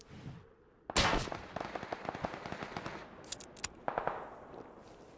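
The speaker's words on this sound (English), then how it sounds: "Who the fuck is that shooting?" Scattered gunfire crackles in PUBG on Xbox One, a burst of sharp shots followed by a string of quicker, lighter reports at moderate distance, with a few louder cracks near the end.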